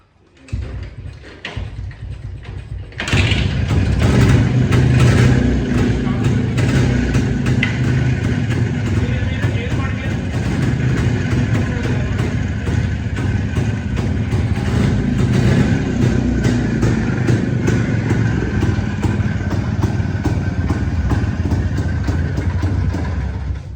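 A cold Yezdi motorcycle engine starts after a few seconds of quieter handling noise, then idles loudly and steadily at close range for the rest of the time.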